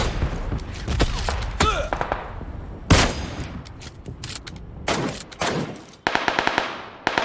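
Rapid automatic gunfire rattles loudly in PUBG Lite on the Sanhok map, with several bursts of shots, some close and punchy, others tighter and more distant, closing on a quick string of evenly spaced single cracks.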